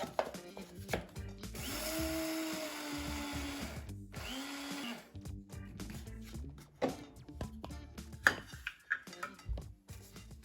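Electric grinder whirring loudly as it grinds flaxseed into powder in a home kitchen, running in two steady bursts with a short pause between, followed by clattering and handling noises.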